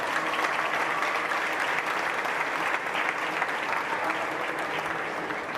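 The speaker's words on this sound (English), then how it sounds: "Give them all a round of applause." Steady, full applause fills a hall at a county showmanship awards event, a crowd clapping continuously for award donors, moderately loud and unbroken without talk.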